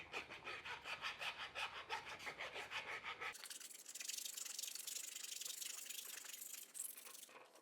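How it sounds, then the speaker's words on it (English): A hand file rasping inside a plastic heated motorcycle grip on a Grom. Rapid back-and-forth strokes sound rhythmically for several seconds, then shift to a smoother, hissing scrape. The filing is close and clear, with no talk. "I'm gonna go ahead and grab a file and file down the inside of the plastic"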